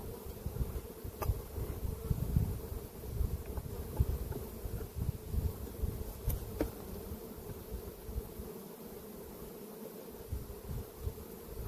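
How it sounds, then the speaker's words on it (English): Steady, dense buzzing of many honeybees swarming around an opened beehive during a varroa mite check, a continuous low drone with light rustling and faint wind. "Let the bees settle down a bit."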